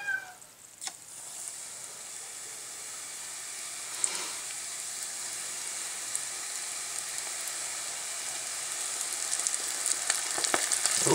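Battered onion rings fry in hot oil, a loud, steady sizzle that grows more crackly and spattery over time, with sharp pops toward the end and no talking.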